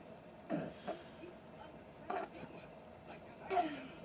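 Three short, faint coughs spaced apart in a quiet room, each a brief rough burst with light background noise between them.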